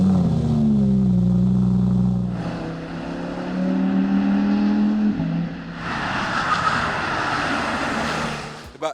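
An Audi R8 petrol sports car on the Paul Ricard circuit roars close by, its engine climbing through gears with rising and falling pitch, then a harsher, brighter burst of revs near the end.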